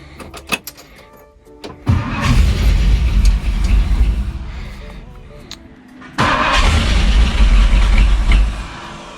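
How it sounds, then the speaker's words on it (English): A 1964 Ford Thunderbird engine cranks, catches and roars to life, dies back, then starts again with a loud steady rumble; a few clicks come before the first crank. "let's see if it'll start"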